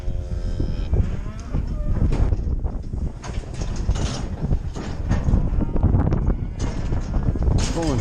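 Cows and heifers on a windy farm, with loud broadband clatter and wind throughout and low bellowing moos mixed in, while a person shouts and talks over the herd nearby.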